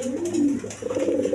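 A pair of racing pigeons with stone-coloured eyes gives a short, close, fairly loud cooing call, a low throaty rolling coo heard alone.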